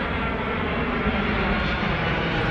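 An airplane roars steadily overhead, a loud, continuous broadband engine drone that holds level across the whole stretch with no voices over it.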